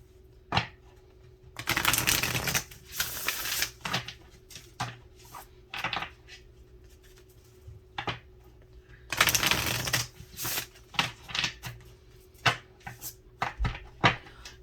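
Cards being shuffled up close: two longer riffling bursts separated by scattered taps, flicks and slaps of cards, with no talking.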